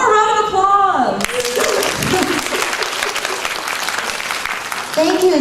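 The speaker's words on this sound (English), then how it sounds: "One more round of applause" Audience applause at a high school English and Japanese presentation contest: dense, sustained clapping from a crowd, starting after a voice and fading as speech returns at the end.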